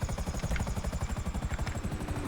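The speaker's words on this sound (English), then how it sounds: "Oh, coming in hard. It's okay. It's not our helicopter." Helicopter in GTA 5 Online flying close by, a steady loud rotor chop with rhythmic low thumping beating continuously throughout, no talking over it.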